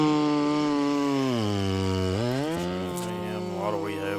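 A big ported Farmertec Stihl MS660 chainsaw used for Alaskan milling of logs into lumber runs loud and close, its engine note dropping, then climbing again with uneven revs.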